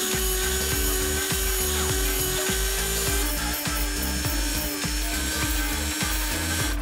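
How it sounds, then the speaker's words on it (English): A Dremel rotary tool smooths rough foam edges on a prop pistol, giving a loud, continuous high-speed whine with a steady motor tone that shifts slightly in pitch, and grinding texture up close. "all this roughness on the edge, we're gonna clean that up with this Dremel."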